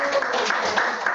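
Brief burst of audience applause at a book-launch talk on refugees, steady dense clapping from a room of listeners throughout.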